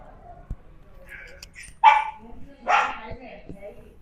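Dogs give two loud, close barks about a second apart, with a few softer yips and yelps around them in an otherwise quiet setting.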